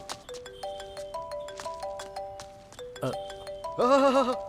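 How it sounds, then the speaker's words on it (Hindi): A bright electronic ringtone melody plays in repeating tonal phrases, then a louder warbling synth tone cuts in near the end. "वाह, क्या रिंगटोन लगाई है तूने?"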